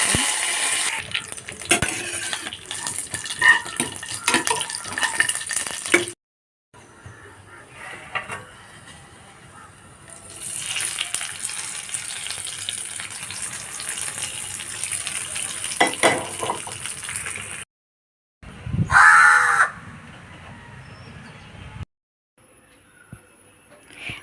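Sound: tempering fenugreek, dried red chilies and curry leaves in pan

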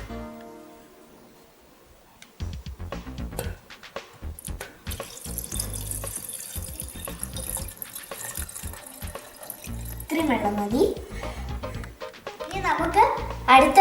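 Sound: pouring water into plant bowl

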